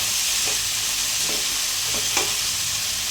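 Onions frying in a pan of hot oil for an egg fry, a steady close sizzle with a few soft scrapes of stirring, no voices.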